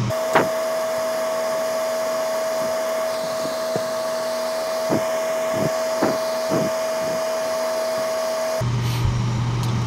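A steady mechanical hum and airy hiss from an airbrush setup applying clear coat to a shiner jerkbait lure, with scattered soft clicks and taps nearby, then a brief change in tone at the end.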